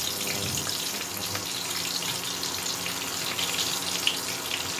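Bay leaf, a dried chilli and whole cumin seeds sizzle in hot oil, a steady close crackling hiss that runs unbroken, with nobody talking.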